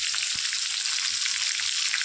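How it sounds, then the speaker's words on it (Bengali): Prawns fry in hot oil in a pan, a steady, close, bright sizzle that holds evenly throughout with a faint tap or two underneath. "চিংড়ি মাছটা আমি ভাজছি"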